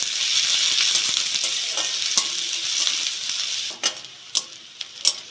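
Chopped onion frying with cumin in mustard oil makes a bright, close sizzle that fades midway, followed by several sharp stirring scrapes against the pan.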